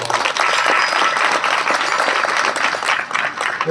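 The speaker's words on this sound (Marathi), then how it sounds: "सर्वांनी टाळ्या वाजवतो. टाळ्या वाजवा सर्व." A crowd at a felicitation gathering for a kirtan performer in Trimbakeshwar breaks into loud, sustained applause, dense and steady throughout with slight swells, close and unaccompanied by speech.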